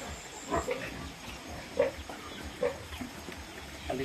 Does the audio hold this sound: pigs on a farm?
yes